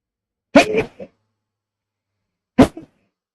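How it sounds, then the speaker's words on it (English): Two separate sneezes, the first sharp burst followed by a short trailing catch, then quiet until a second abrupt sneeze a couple of seconds later, close by. "I'm sneezing."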